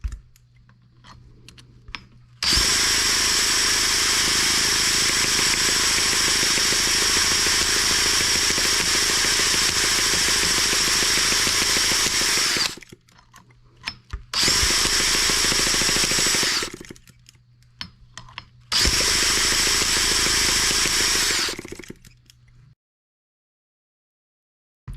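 Power drill running in bursts while working on an M14 twin cylinder tractor engine: a long loud stretch of harsh whirring, then two shorter runs with brief pauses between, close and steady.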